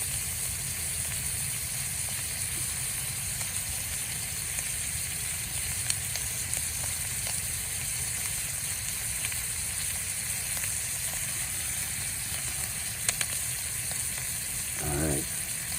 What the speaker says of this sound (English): Get that sear.